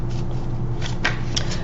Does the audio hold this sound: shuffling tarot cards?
yes